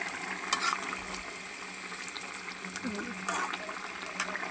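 Tilapia fish cooks with vegetable stems in a pot, giving a faint, steady simmering bubble with a few light clinks, while someone talks quietly nearby.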